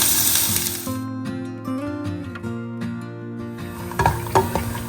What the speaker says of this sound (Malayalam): അതിനകത്തോട്ട് കുറച്ച് തേങ്ങ വറുക്കാം.